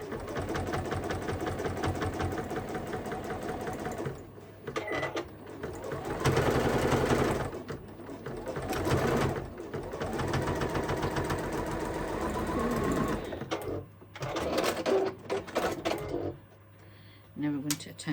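A sewing machine runs in long steady bursts while top stitching a fabric cross-body bag, its fast mechanical whir pausing briefly between runs and then resuming.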